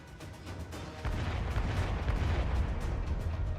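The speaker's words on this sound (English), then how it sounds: "Kichise is sending explosions everywhere with her grenades" Grenade explosions from the Arknights video game, a dense series of booming blasts and crackling bursts that grow louder partway through and continue without pause, with no speech.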